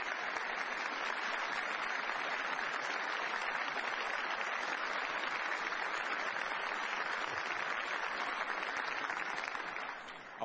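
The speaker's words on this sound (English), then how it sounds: "So let's give them a round of applause again." Sustained audience applause at a Liberal party event in Winnipeg, thanking the volunteers, steady and dense throughout before tapering off at the very end.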